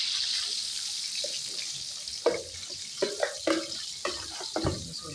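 Semolina sizzling in hot ghee for makhandi halwa: a steady bright frying hiss runs throughout, broken by several sharp scraping stirs in the second half, close and moderately loud with no talking.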